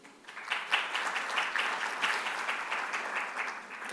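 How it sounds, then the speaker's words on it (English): An audience at an open-education conference gives a round of applause, a fairly soft, even patter of many hands heard from a distance, swelling after a quiet start and holding steady. "So a round of applause for you and the sponsors"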